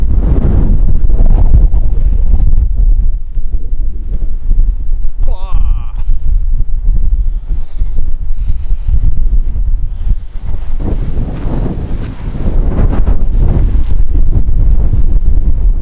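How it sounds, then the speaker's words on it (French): Heavy wind buffets the microphone at the Salins d'Hyères salt marshes with a constant loud rumble and gusts, while a voice speaks underneath in French. "Il y a énormément de vent, c'est terrible."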